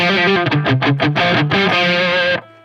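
A short, chunky run of muted, distorted electric guitar notes, choppy and percussive, then one sustained note that cuts off abruptly.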